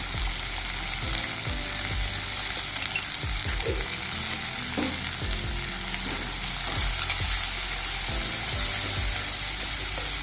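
Okra curry stirred in a hot pan, steady frying sizzle filling the whole stretch with repeated scraping and clacking of a spoon against the pan, close and fairly loud, no voices.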